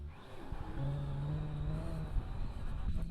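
A 2021 Kawasaki Z900 engine hums and revs at moderate distance during a long rear-wheel wheelie, with a sustained tone shifting in pitch over a low rumble.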